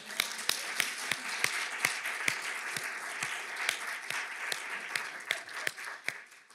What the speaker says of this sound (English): I think she should get her own applause